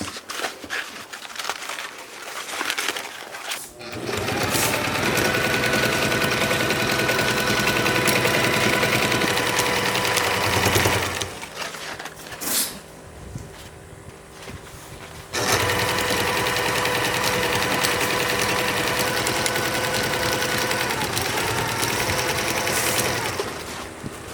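A sewing machine stitches a spinnaker sock of heavy fabric in long, loud, steady runs of rapid mechanical whirring, broken by one short pause midway, with no talk.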